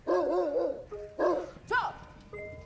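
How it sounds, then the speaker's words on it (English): A chicken in a film makes a dog-like sound of short, tonal, yelping barks with wavering pitch, several in a row with brief gaps. The calls are moderately loud and close against quiet background noise. "That chicken was barking?"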